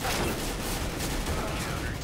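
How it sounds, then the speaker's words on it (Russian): Dense, continuous gunfire from Counter-Strike: Global Offensive, a steady rattling fusillade with no gaps across the whole stretch, loud and close, with faint voice chatter mixed underneath. "Кто там стреляет?"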